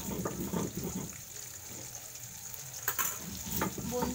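Bhola fish fries in a pan, a low bubbling sizzle with some watery crackle and a few sharper spits, fairly quiet and close.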